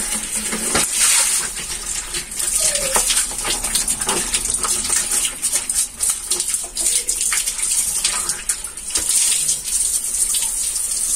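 Water gushes from a tap into a bird's bath in a yard, a strong continuous splashing flow with brief surges and dips, close and loud.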